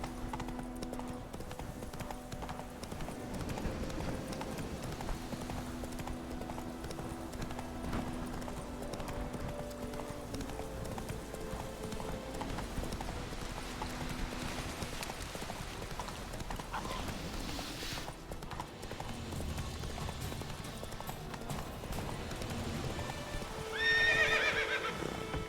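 Roach the horse gallops in The Witcher 3, with a steady rapid clip-clop of hooves and an occasional whinny over a busy game soundscape. The level stays moderate throughout.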